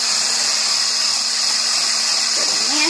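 Electric mixer whirring steadily as it beats egg whites with bananas for sugar-free meringue, a constant close high-pitched motor drone with a slight shift in tone near the end.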